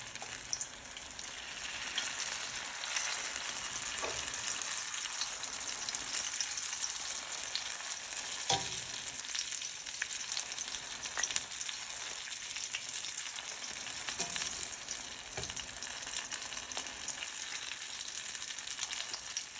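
Banana lumpia fry in a pan of hot oil, a dense, steady close-up sizzle and crackle that stays loud and even throughout with scattered pops and no voices.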